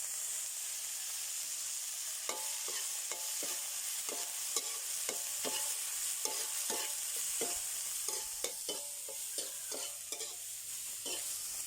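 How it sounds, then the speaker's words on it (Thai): June beetles fry in a pan with a constant hiss of hot oil and a run of crackling pops and scraping stirs, close and fairly quiet. "ตอนนี้ก็จะเริ่มการทอดกับแมลงนี้แล้วครับผม"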